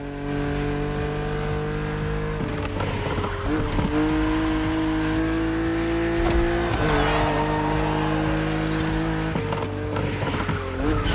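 A BMW Z roadster racing in The Crew Motorfest, a video game: loud, continuous engine drone that steps up through gear changes, with tire squeal and skidding mixed in, and no talking.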